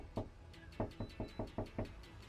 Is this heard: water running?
no